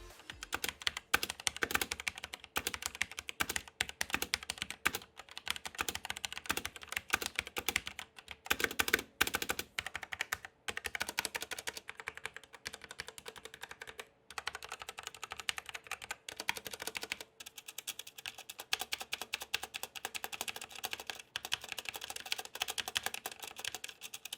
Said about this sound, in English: here's a quick sound test of the Kada's Ultima Red switches